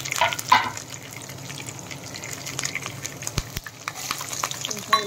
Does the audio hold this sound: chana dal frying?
yes